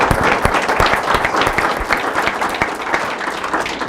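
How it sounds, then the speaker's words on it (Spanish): An audience gives a TV program guest a strong round of applause, with loud, dense, continuous clapping and sharp individual claps standing out throughout nearly four seconds. "vamos a brindarle un fuerte aplauso a nuestro invitado"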